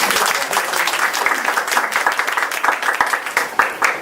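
Audience at a Toastmasters meeting clapping to cheer a first-time timer, a lively patter of hands from a modest room-sized group, close and fairly loud, holding steady for several seconds.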